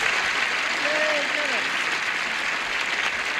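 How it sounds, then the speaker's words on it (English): Studio audience on a game show applauding a new player, a continuous moderate clapping wash with a brief whooping cheer near the start, steady to the end. "Applause, applause, applause."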